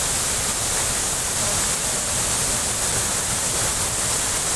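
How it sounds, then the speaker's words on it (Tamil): A steady, dense roar of rushing water fills the air as Meghamalai waterfall floods suddenly after heavy rain, loud and unbroken throughout with no voices. "மேகமலை அருவியில் திடீர் வெள்ளப்பெருக்கு."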